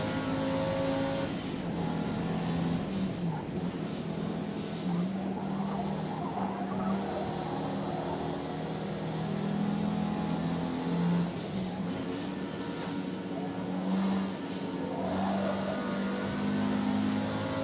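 Audi RS3 engine in Forza Motorsport races steadily and loud throughout, a continuous drone with mild rises and falls in revs, heard alone without voices.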